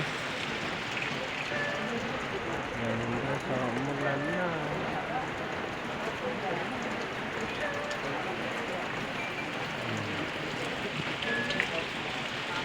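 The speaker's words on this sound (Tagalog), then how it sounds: "sa wakas umulan na rin" Rain falls as a steady, dense hiss of drops outdoors near soursop and moringa trees, continuous and moderately loud, with a voice talking over it.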